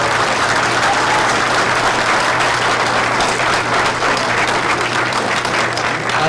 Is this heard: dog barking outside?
no